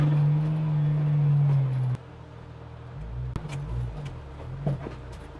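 An off-road Porsche 911 climbs a rocky uphill in third gear, its engine a steady low drone that drops abruptly partway through into a rougher rumble punctuated by knocks and clunks over the rocks.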